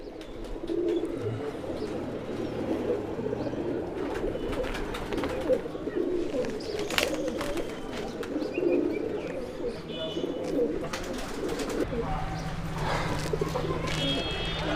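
Black Saharanpuri pigeons coo repeatedly in soft, low bursts over a busy background of bird chatter and rustling, with people talking nearby.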